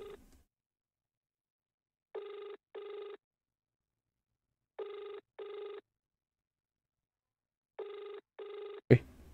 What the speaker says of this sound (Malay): Bunyi handphone tu lagi.